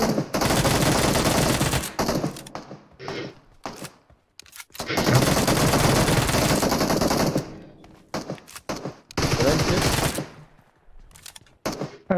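Loud bursts of automatic gunfire in the video game PUBG Mobile, several sustained volleys separated by short gaps and scattered single shots, close and dense.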